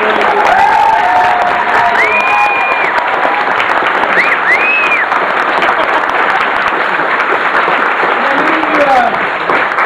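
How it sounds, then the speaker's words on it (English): A convention audience at a closing ceremony gives a dense, loud round of applause with some cheering, sustained throughout, while scattered voices call out over it. "let's have another round of applause for Kitty"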